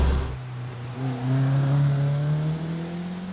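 Caterham 360R sports car engine while driving, close and loud, its pitch rising steadily as the car accelerates, with a rough roar over a low rumble and no talk.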